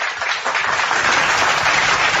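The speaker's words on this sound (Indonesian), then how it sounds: "tepuk tangan untuk itu" Church audience applauding during a sermon, a dense, steady wash of clapping that holds loud and continuous throughout with no speech over it.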